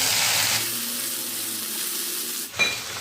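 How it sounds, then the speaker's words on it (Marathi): Okra slices dropped into hot oil tempering in a home kitchen pan hiss and sizzle loudly and close, a steady crackling fry with a brief stir or clatter near the end. "आता यांना मस्तपैकी फोडणी म्हणजे चांगले थोडेसे तळल्यानंतर आता आपण टाकणार आहोत भेंडी"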